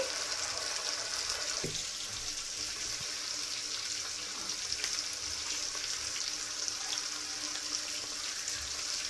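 Onions and tomatoes fry in a pan for a dried-fish and drumstick curry, giving a steady, close sizzle with faint stirring scrapes and no voices.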